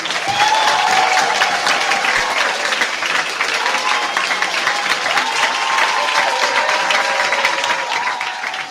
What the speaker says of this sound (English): A round of applause for Yamkela Manana.